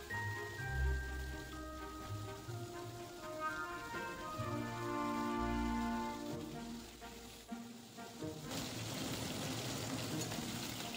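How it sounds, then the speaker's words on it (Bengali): Tangra fish frying in oil in a home kitchen, a steady rain-like crackle running throughout beneath tonal background music, growing harsher and denser toward the end. "অবশিষ্ট মাছগুলিকেও আমি একইভাবে একবার ভেজে নেব।"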